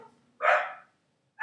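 An excited dog in a home gives two sharp, close barks about a second apart.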